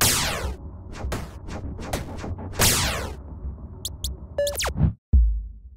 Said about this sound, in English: Then I spent the rest of the day adding and implementing sound effects and music for the game to make it sound like this.